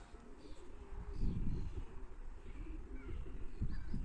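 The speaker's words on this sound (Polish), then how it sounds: "Pierwszego gołębia już mamy." Racing pigeons coo softly at their loft after flying back from a long race of about 650 km, low murmuring calls repeating faintly through steady background noise.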